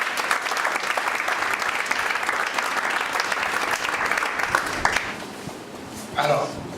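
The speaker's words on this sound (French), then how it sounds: "Est-ce qu'on va acclamer le Seigneur?" Church congregation applauding and cheering to acclaim the Lord during a sermon, a dense sustained wash of clapping that fades after about five seconds, followed by a brief burst near the end.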